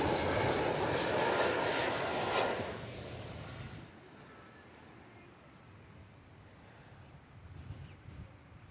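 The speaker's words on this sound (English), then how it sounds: "This is an American Eagle, Embraer 175." American Eagle Embraer 175 jet arriving at DFW Airport, a loud broadband engine roar that swells for about three seconds and then drops off to a fainter, steady rumble as the aircraft passes.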